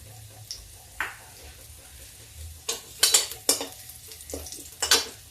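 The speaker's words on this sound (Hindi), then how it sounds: "लहसुन भून गया है, अब थोड़ा हरा मिर्चा डाल देते हैं।" Soft oil sizzle in a pan with a few sharp stirring clacks of a utensil against metal, no voices.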